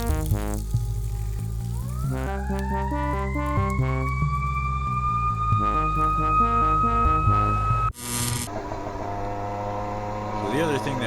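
A police car siren rising into a sustained wail over a loud, steady buzzing motorized bicycle engine close by, followed by a sudden burst of noise and continued engine drone.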